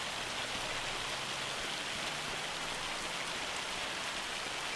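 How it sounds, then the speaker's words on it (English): Pea-size hail falling in the Farming Simulator 25 video game, a steady dense patter like heavy rain drumming on a surface, continuous and fairly loud throughout with no voices. "That sounds like pea size hail at most."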